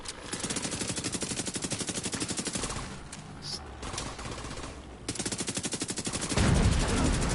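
Rapid bursts of turret machine-gun fire in The Division 2, loud, with rhythmic repeated shots, a short lull, then more fire and a heavier blast at the end.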